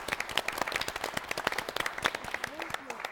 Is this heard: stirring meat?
no